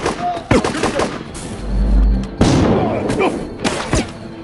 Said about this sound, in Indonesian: saat mendengar suara tembakan di luar